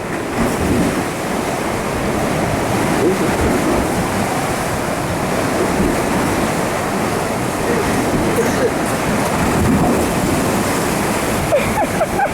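Massive waves from Tropical Storm Debby crash under strong gusting wind, a loud, continuous roar of surf and buffeting wind noise lasting throughout with no clear pauses.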